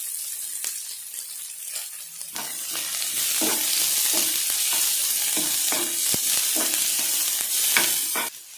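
Chopped onion sautéing in a pan for a semolina breakfast dish, a steady bright sizzle with repeated scraping stirs of a spoon against the pan, close and continuous with no talking.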